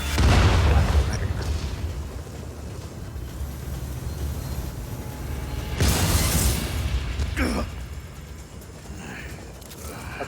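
Homing grenades fired from a sniper rifle in Just Cause 4 set off a heavy opening blast followed by a sustained rumbling roar, with a second burst around the middle and a fading tail.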